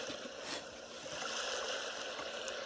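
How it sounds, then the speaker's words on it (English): Ocean setting on a Big Red Rooster portable baby sound machine: a steady, even wash of soft watery noise, continuous and alone throughout. "My favorite's the ocean sign."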